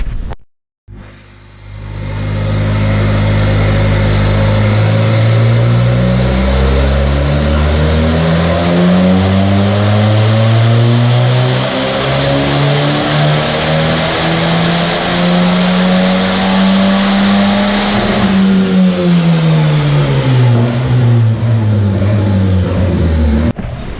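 A turbocharged car engine with a stock T-cam running 15 psi of boost revs on a dyno, climbing in a loud, sustained pull for about twenty seconds before the revs drop off.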